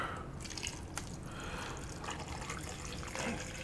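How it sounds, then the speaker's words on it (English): Water trickles and drips into a blender jar, a faint close splashing that sounds gentle and uneven, with quiet background hum and no speech. "I'm going to put a little bit of water in here"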